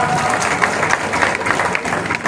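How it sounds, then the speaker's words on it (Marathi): A crowd at a political gathering applauds to welcome BJP MLA Rambhau Kadam, a sustained burst of close, loud clapping with scattered sharper claps and a faint murmur of voices. "टाळ्या वाजून स्वागत करा"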